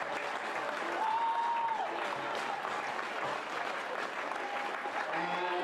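Brighton fans at a Women's Super League match against Bristol City applaud Maisie Simons, a continuous stadium-wide roll of clapping with faint whistles and crowd murmur underneath.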